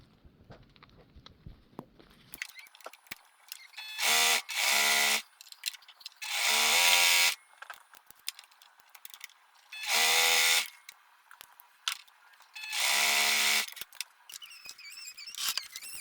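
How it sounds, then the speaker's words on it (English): Five bursts of a sewing machine motor whirring as it stitches, each lasting about a second, separated by quiet pauses; close and fairly loud, no talking. "I changed the sewing machine footer to the zipper one, then joined both pencil pouches."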